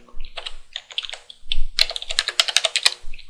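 A password entered on a computer keyboard at a root prompt: a quick run of crisp, close key clicks, sparse at first and then a fast dense burst, with no voices.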